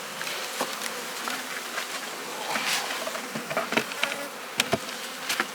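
Steady buzzing of many honey bees close by at a hive, a dense humming drone with occasional louder passes and light tapping sounds.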